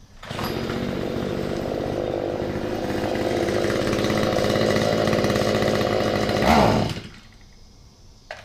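STIHL weed eater engine running at a steady high rev after a carburetor reset to factory settings, loud and close for several seconds before cutting off abruptly.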